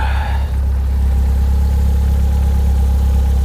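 Skoda car engine idling steadily while running rich, a loud, continuous low rumble close by with a brief dip near the start and no talk.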